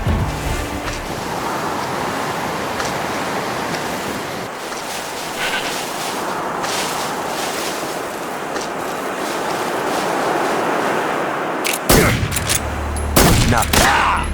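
Gunfire in the video game Metal Gear Solid 3: Snake Eater during the Ocelot chapter: a steady roaring wash like surf, then a few sharp, loud cracks burst out near the end.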